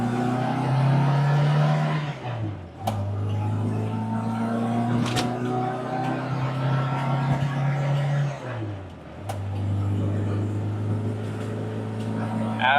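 A classic Mini 1100 accelerates hard on an open road, its engine note climbing through the gears with two clear dips at the shifts, loud and close from inside the car.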